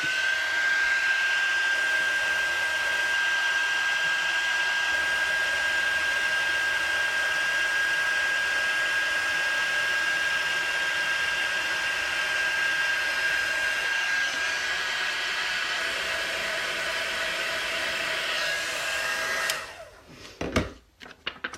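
A heat gun blows hot air to melt powder from underneath, giving a loud, steady roar with a faint whine. It runs close and unbroken for about twenty seconds, then cuts off into a few clunks.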